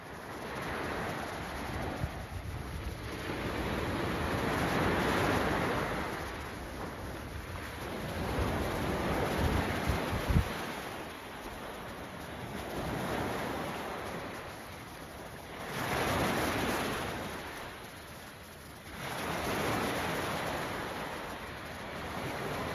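Surf rolls onto a beach in Pattaya, Thailand, with wind noise. Broad washing surges build and fade every few seconds and carry steadily throughout, with no voices.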